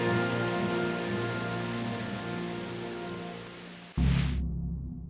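Steady rain in the game Kingdom Come: Deliverance hisses evenly, then gives way to a brief louder burst and a low rumble before fading.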